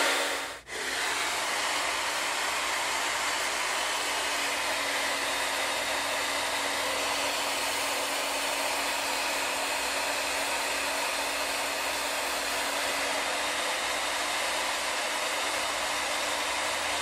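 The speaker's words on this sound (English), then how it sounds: "Turn on your hairdryer" A hair dryer blows a steady, loud broadband rush of air after a brief click on, running continuously, used to heat canned soup poured into a plastic bowl.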